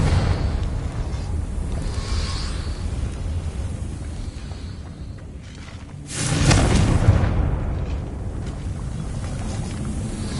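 A Confringo fire spell in Hogwarts Legacy erupts in a single broad blast that swells midway through a windy, rumbling game soundscape, lasting about a second before fading back into the background bed; nobody speaks.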